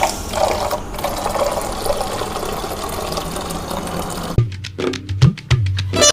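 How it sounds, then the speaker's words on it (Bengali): Water pours from a jug into a bottle as a steady, close gush. It stops abruptly and is followed by a few uneven knocks and clunks. "হাফ করে জগ একটা বোতলে জল ঢেলে নি"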